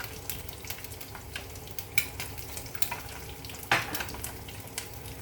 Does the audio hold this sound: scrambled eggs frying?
yes